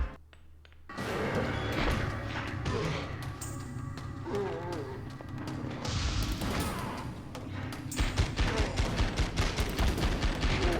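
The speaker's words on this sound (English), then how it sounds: "Empty the AK into him there." AK rifle fire in the video game The X-Files: Resist or Serve during a fight against zombies, dense rapid bursts of gunshots over a busy game soundscape, growing into sharp rhythmic automatic fire near the end.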